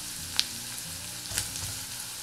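Onion sautéing in olive oil in a pan gives a steady, quiet sizzle with a couple of brief stirring scrapes, and no voices.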